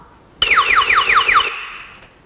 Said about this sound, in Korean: 이 경보음은 볼륨 조정이 안 되게끔 설계되어 있어서 무조건 최대치로 음량이 나타나기 때문에 도난 방지에 좀 효과적입니다